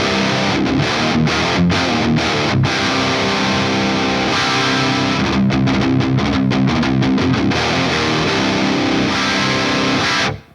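An electric guitar plays through a Mesa Triple Rectifier amp with a flat EQ, giving heavily distorted metal riffing with tight palm-muted chugs and stops, loud and close, before ringing out at the end.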